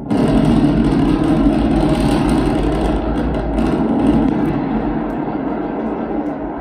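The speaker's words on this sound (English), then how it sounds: "We're preparing to restart two engines, flip the vehicle vertical, then transition to one engine for the landing burn." SpaceX Starship SN9 rocket engines restarting for the landing burn, a loud, steady, broadband roar that stays constant throughout and eases only slightly toward the end.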